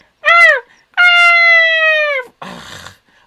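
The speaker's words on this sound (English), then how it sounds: "one of those annoying little dogs with one of those high, whiny barks" Small dog giving two high, whiny drawn-out barks or howls, loud and close, followed by a brief rough growly sound, with no talking.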